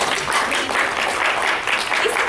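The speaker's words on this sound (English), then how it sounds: "Clapping is always good." Audience clapping fills the moment as an even, continuous patter of many hands, moderately loud and without voices on top.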